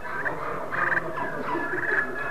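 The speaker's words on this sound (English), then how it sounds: "That's a good purr, good cluck." A friction turkey call, worked with a striker, makes soft rolling purrs and short clucks in a few quick bursts, close and clear with no talk.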